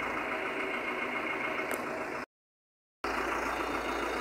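Case Farmall 80 tractor engine idling steadily up close with a low, even rumble, cut by a brief silent gap partway through before the same idle resumes.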